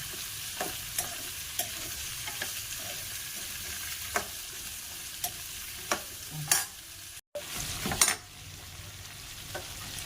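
Capsicum and crushed green chili sauté in a pan, a steady hiss of oil under regular scraping and clicking stirs, with a brief louder burst of sizzle near the end.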